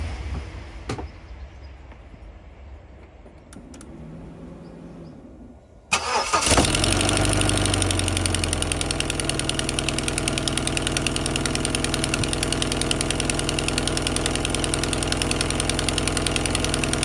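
Vauxhall Cavalier X20XEV engine starting abruptly after a quiet stretch of faint clicks, then settling into a steady, close, even idle with a slight rhythmic tick.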